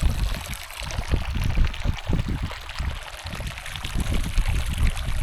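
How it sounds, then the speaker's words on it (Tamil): A small mountain stream in Kyrgyzstan runs and trickles steadily over rocks, a loud, continuous wash of water with no voices. "இது ஒரு குட்டி ஓடை, நம்ம தாகத்தை தீர்க்குது."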